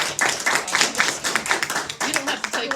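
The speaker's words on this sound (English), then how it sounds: "I want to give you a round of applause" A small group claps for older people still working past retirement age, an uneven run of hand claps with distinct individual slaps, close and fairly loud, with some voices mixed in.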